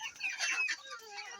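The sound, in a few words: chicken clucking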